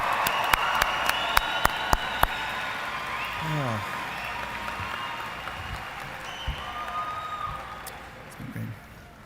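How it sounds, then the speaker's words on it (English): Audience at a 2025 secondary school commencement applauding the graduating class, a broad steady wash of clapping from a large crowd indoors, with a few sharp nearby claps standing out early and the ovation slowly tapering off. "please join me in another round of applause for the graduating class of 2025"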